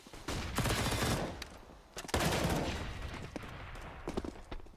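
Rapid automatic AK rifle fire in a Counter-Strike match: dense, loud bursts of gunfire that crackle in close succession with brief gaps between volleys.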